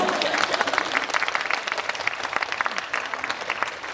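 Audience applause at a live cinema talk event at CGV Yeongdeungpo, lively clapping that starts dense and breaks into more distinct individual claps as it tapers.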